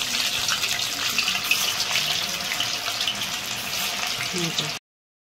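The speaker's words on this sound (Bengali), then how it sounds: "বন্ধুরা আমি বাকিগুলো এইভাবেই ভেজে নেব" Chowmein vegetable pakoras deep-frying in hot oil, a steady dense hiss and crackle close up with no talk, cutting off abruptly near the end.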